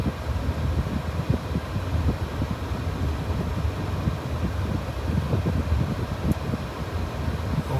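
Strong, hot gusting wind in Bullhead City, Arizona, roars steadily and loudly into the microphone as a dense, rumbling rush, with no voices heard.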